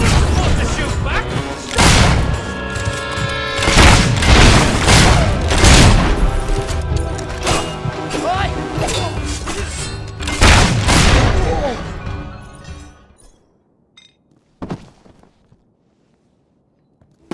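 Heavy gunfire and explosions from the video game Fable 3 fill the scene, with repeated loud booming blasts and crashes over a dense battle din, mixed with voices, before cutting away to near silence with a few isolated thuds.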